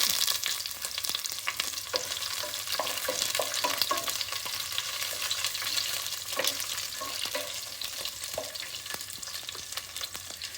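Ginger fries in a hot pan while green chilies go in, giving a steady loud sizzle broken by repeated spoon scrapes and stirring clatter, with no voices.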